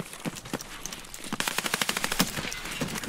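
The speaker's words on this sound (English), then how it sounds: "There's gunshot there already." Video game gunfire: scattered single shots at first, then a rapid, evenly paced automatic burst of about a dozen sharp cracks, followed by a few more shots, all fairly close.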